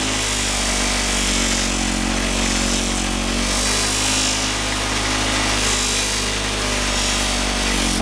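An aluminum handlebar riser is pressed against a spinning buffing wheel during polishing, a loud, continuous motor whine and rushing hum that holds steady for the whole stretch with no voices.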